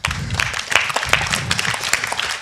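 An audience at a panel discussion applauds the four panelists, a steady burst of close, dense clapping from a modest crowd.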